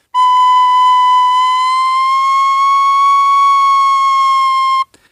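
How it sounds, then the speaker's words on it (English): A pennywhistle holds one clear, loud, pure note that bends slowly upward as a finger rolls off a half-covered hole, then cuts off abruptly. "I'm going to put my finger over the hole and I'm going to roll it to kind of go up to the next note"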